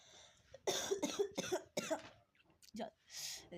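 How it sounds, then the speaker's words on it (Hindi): A person coughs a few times, with short, harsh bursts mixed in with nearby speech. "शुरू ही में मतलब खांसी आने लगा है"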